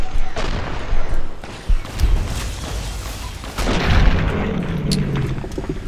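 Anti-materiel rifle fire in Fallout: New Vegas at the Quarry Junction quarry: a few heavy, booming reports spaced a second or two apart, each trailing into rumble over continuous game background noise.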